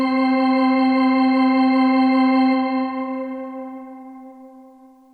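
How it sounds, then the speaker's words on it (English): Fast organ voice on a Cantorum Duo keyboard: one bright sustained chord rings loud and steady, then fades gradually toward the end, heard alone without any talking. "Now number 9, organ fast."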